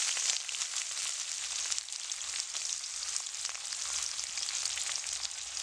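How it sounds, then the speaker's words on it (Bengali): Chopped onion sizzling in white oil in a wok, a steady bright crackling hiss that runs continuously and close by with no talk over it. "এবার আমি কড়াইতে দিয়ে দিচ্ছি সাদা তেল চিকেনের যে পুরটা বানাবো তার জন্য আমি প্যাঁচ কুচি দিয়ে দিচ্ছি"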